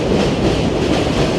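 A New York City subway train rolling past nearby, loud continuous rail rumble and clickety wheel rattle filling the moment without any talk.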